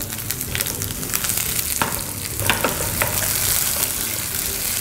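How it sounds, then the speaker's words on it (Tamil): Sliced onions sautéing in a pan for a restaurant-style red curry gravy, a steady close sizzle broken by repeated scraping stirs, with no talking. "வெங்காயம் வதங்கிட்டுருக்கு"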